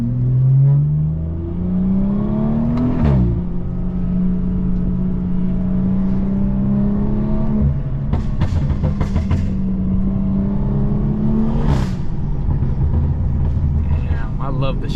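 A straight-piped BMW 340i is driven on paddle shifts. The close, loud engine drone rises in pitch through the gears, with abrupt drops at upshifts around the third and twelfth seconds, and bursts of crackle in between.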